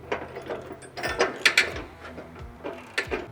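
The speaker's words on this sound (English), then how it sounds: "To tighten these bolts up, I've got a 21mm wrench and a 19mm socket." Rapid ratcheting clicks from a 19mm socket wrench, with a 21mm wrench holding the other side, tightening rock slider bolts on a Nissan Frontier D41. Several short bursts come close and clear.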